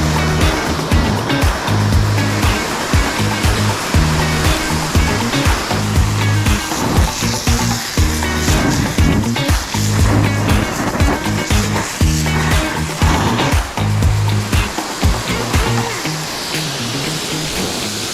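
A garden hose sprays water outdoors with a steady, loud rushing hiss over a pulsing low rumble that runs the whole time, with no talking.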